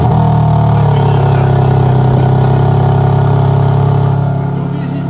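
A BMW engine runs steadily in a Japanese garage, a loud, sustained low drone with a constant tone that eases slightly near the end, with no speech over it.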